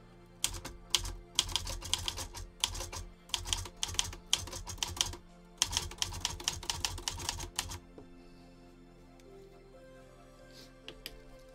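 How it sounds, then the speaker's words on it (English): A typewriter clacks in fast bursts of key strikes for about eight seconds, close and crisp, then falls quiet with only faint background hum. "It's just a silly typewriter."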